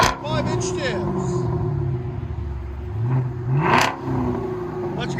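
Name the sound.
Chevy Camaro SS 6.2L V8 with Flowmaster Outlaw exhaust revving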